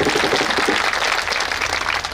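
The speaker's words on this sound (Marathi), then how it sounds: "टाळी वाजवायवर त्यांच्यासाठी." A kirtan audience claps in a dense, steady round of applause that stays loud and even throughout, with no voices standing out.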